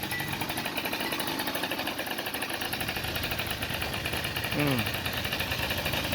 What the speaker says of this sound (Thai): มันจะมีเสียงคาบูดังนิดนึงนะ ติดเครื่องก่อนนะจ๊ะ ไม่ต้องไม่ต้องบิดคันเร่ง